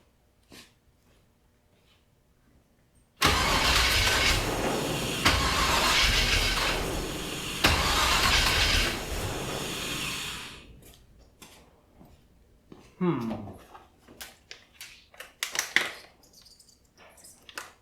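An old-school V8 car engine with freshly fitted performance heads cranks over and fires, running loud and rough for several seconds before cutting out, followed by scattered clicks and mechanical clatter up close.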